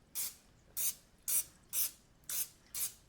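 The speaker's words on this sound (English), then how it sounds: "Spray in the pan." Can of cooking spray spritzed into a pan in six short, even hissing bursts about half a second apart, close and crisp, with quiet pauses between them.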